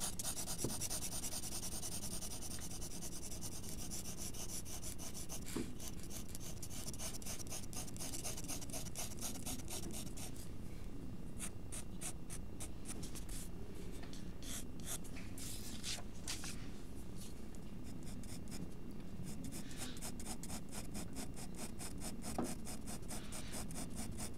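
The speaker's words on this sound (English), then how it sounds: "using the side of the pencil just to shade that as well" Continuous soft scratching and rasping of a graphite pencil shading on paper with the side of its lead while drawing an apple, close and steady for the whole stretch with slight shifts in stroke texture.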